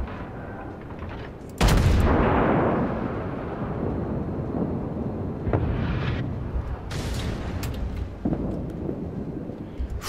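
Heavy booming naval cannon blasts in the video game World of Warships, one big close explosion followed by rumbling echoes and further distant shots, with no talking.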